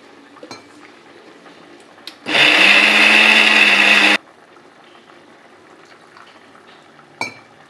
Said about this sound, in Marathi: कोथिंबीर टाकून फिरून घेते थोडं